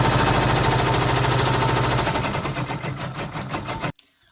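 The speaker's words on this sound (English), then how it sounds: "I've set up the file to do a final round of satin stitching." An embroidery machine runs a final round of satin stitching on an appliqué, giving a loud, fast, steady needle clatter that thins out over the last seconds and stops abruptly near the end.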